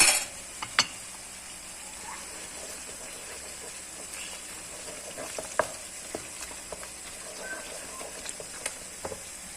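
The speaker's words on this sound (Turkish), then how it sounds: "Bir yemek kaşığı domates salçamızı ilave edelim ve böyle güzelce ne kavuralım." Tomato paste sautéing in a pan for a creamy beef sauté, a steady low sizzle and crackle with a few sharper pops and stirring scrapes, close and continuous with no talking.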